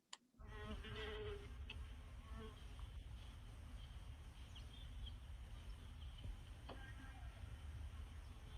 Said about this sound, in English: at a mason bee habitat that I set up last, and those mason bees coming and go